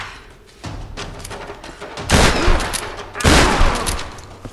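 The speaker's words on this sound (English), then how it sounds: "Shotgun is fun" Shotgun blasts in the Tomb Raider game, two heavy booming shots with a gap between them over a noisy background of combat rumble, loud and close.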